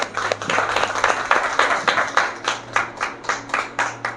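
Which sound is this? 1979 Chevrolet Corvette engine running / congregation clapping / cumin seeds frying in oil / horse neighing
congregation clapping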